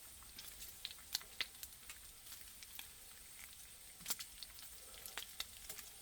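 Bacon frying crisp in a pan, a faint steady sizzle scattered with sharp pops and crackles at irregular intervals.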